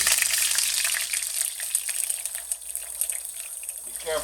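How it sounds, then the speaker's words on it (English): Onions cooking in hot oil in a pan give a steady, bright frying hiss throughout, close and fairly loud, with small crackles and pops rising near the end. "we're going to start cooking some onions"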